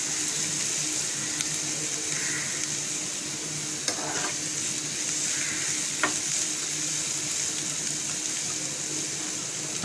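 Onions frying in a pan for achari methi baingan, a steady close sizzle running throughout with occasional soft stirring clinks, no voices.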